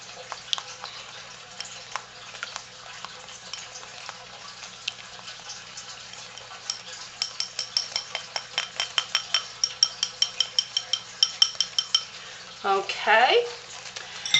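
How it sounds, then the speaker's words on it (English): A small stainless steel whisk stirs a lavender vegan soap mixture in a container, rapid clinking strokes that speed into a regular beat against the sides, with one brief spoken word near the end. "I'm going to stir it up with my little whisk."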